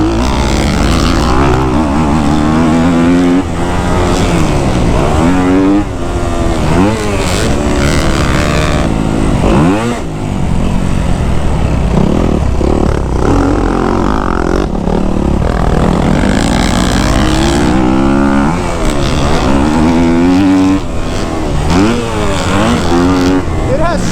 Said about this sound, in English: This is my 2025 Yamaha YZ250F in front of me. It's my little cousin Sam ripping it.